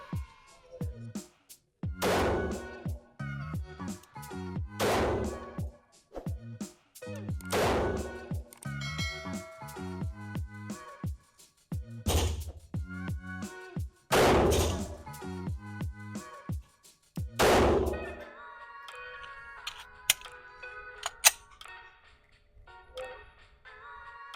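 A Glock 19 MOS pistol with a red dot sight fired repeatedly outdoors, a string of sharp loud reports at uneven intervals, with a few quieter shots and some talking toward the end.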